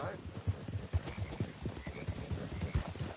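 Horse hooves clip-clop in a steady, fairly quick rhythm in a video game, close and moderately loud, with a voice speaking over them.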